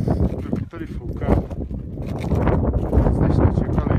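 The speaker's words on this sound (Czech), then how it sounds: "Tady fouká." Strong wind gusts roar across a high Himalayan mountain slope near Mount Everest, buffeting the microphone in a continuous blustery rush that swells louder toward the end, with no clear voices.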